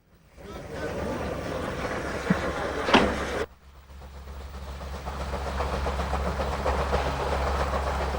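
A train runs on the Albula railway line in Switzerland, a steady rumble and rolling clatter with a low hum, a brief sharp screech midway, then a quieter steady run.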